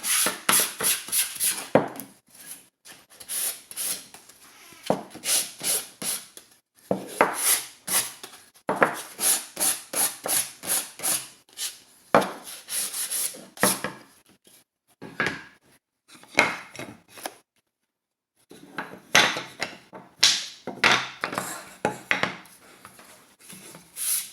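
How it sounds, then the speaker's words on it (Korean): Repeated scratchy rasping strokes of sandpaper on a wooden basket with a round handle, coming in quick bursts separated by short pauses, close up with no talking. "사포질도 골고루 하면 좋아요"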